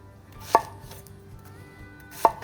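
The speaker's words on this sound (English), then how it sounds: "Quarter the onions" Two sharp, close knife chops as onions are quartered on a cutting board, spaced well apart with a quiet kitchen hum between them.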